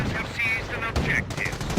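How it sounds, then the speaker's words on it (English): A Nebelwerfer mortar in a strategy video game firing smoke rounds, heard as loud, close, rapid bursts of shots mixed with shrill whining tones over a dense battle din. "Lots of smoke rounds from this mortar."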